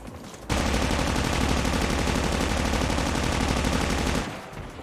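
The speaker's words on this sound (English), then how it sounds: "So let's go ahead and do a firing test on it." Sustained automatic PDW fire in Call of Duty Mobile, a rapid, dense burst of shots running unbroken for nearly four seconds, loud and close with no talk over it.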